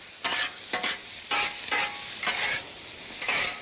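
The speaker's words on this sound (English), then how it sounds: "Get those onions softened a little bit." Onions softening in oil in a hot pan, a steady sizzle broken by several rhythmic scraping stirs, close and clear with no talking.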